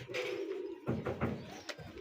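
Low, soft cooing of pigeons nearby, a few short throaty calls in quick succession, fairly quiet.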